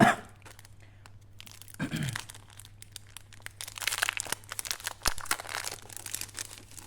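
A plastic packet of Christmas dice is torn open and crinkled up close, with a sharp tear and then scattered rustling and crackling.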